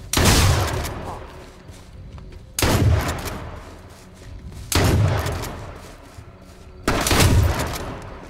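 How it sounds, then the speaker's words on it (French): Gunfire in the shooter game H1Z1, four heavy booming shots spaced about two seconds apart, each with a long decaying tail, loud and close. "je sais pas quoi il m'a tiré dessus mais il me tirait dessus"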